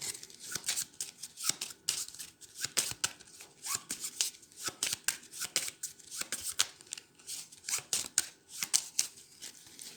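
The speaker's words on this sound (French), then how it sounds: "J'ai plus de cartes ici, je mélange." Dinoblivion board game cards shuffled by hand in a steady run of quick, crisp riffling bursts, close and fairly loud, with no talking.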